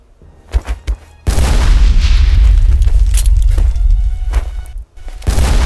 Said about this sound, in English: Take one of your anti-tank grenades. That's it. Toss it onto that tank and stand back.